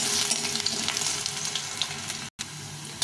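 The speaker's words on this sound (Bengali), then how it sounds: "আলুটাকে একটু লাল লাল করে ভেজে নেব।" Potatoes browning in Fortune kacchi ghani mustard oil give off a continuous close sizzle and crackle, with a brief dropout of sound partway through.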